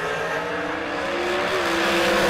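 Top dragsters racing at a Great American drag race: a loud, continuous engine roar that holds steady and swells slightly toward the end, sounding fairly close.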